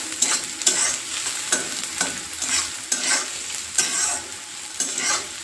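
Onions turning golden brown fry in a pan with a steady sizzle, punctuated by regular scraping strokes of a spatula about every half second, close and fairly loud with no talk.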